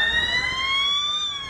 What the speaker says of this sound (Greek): Στο σημείο φτάνει ασθενοφόρο